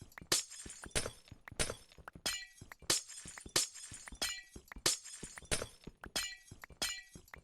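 Glass blocks are broken one after another in hardcore Minecraft, making a rapid, regular run of loud, crisp shattering crashes over several seconds, with no talking.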